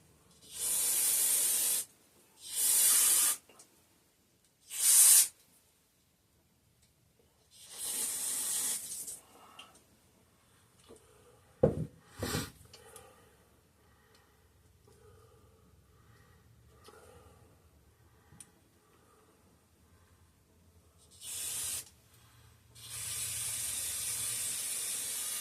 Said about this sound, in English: I'm going to step outside to continue spraying this off.